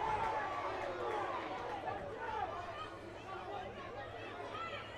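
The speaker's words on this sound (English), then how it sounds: "You see the crowd getting upset at the first baseman." Crowd chatter and babble rise steadily through a high-school baseball championship game in Staten Island as spectators grow upset at the first baseman, a continuous dense murmur of many voices with no single sound standing out.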